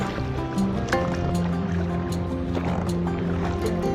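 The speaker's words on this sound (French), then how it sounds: "on y va à la rame" Oars working a sailboat under way without its engine on a Mediterranean crossing from Porquerolles to Calvi: repeated splashes and water sloshing against the hull, with creaks and soft knocks from the boat, all close by.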